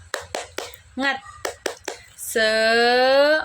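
Children in a classroom clap a rhythmic tepuk semangat chant, short bursts of claps between shouted syllables, ending on a long sung cheer, close and lively.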